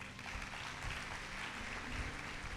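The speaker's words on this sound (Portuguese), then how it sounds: "Aplauda a palavra do Senhor." A church congregation applauds during a sermon on God's promises. The clapping is a faint, steady, distant wash that runs evenly throughout.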